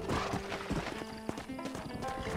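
Horse hooves clip-clopping in the Wild West video game Red Dead Redemption, a quick, close run of hoof beats over a low musical score, without talk.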